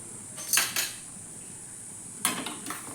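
A utensil scrapes and clinks against a pan as a horse gram flour mixture is stirred, giving two short close bursts of metallic scraping separated by a quiet pause.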